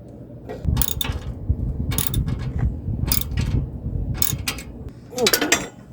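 A Camco Save-A-Step RV step stabilizer brace being tightened, with close repeated ratcheting clicks in short bursts separated by brief pauses and a final metallic creak.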